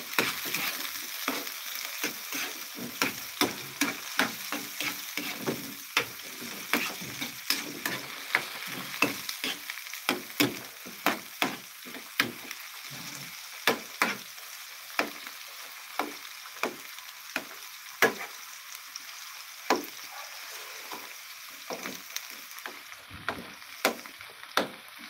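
Garlic, onion and tomato sautéing in a pan for spicy ginataang langka, a steady low sizzle broken by frequent sharp scraping and stirring clicks from a utensil, close and fairly quiet, no talking.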